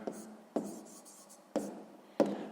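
A pen writes a sixth-grade math answer by hand on paper, with four sharp taps of the pen set against quiet soft scratching strokes, close and alone.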